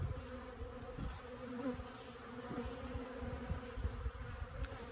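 Honey bees buzz steadily at a bee farm, a dense, close, moderately quiet swarm hum with individual insects flitting near and away.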